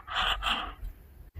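A man panting hard and out of breath after running, a village comedy scene; two strong rasping gasps come close up in quick succession, followed by a softer breath and a short pause, with no talk over it.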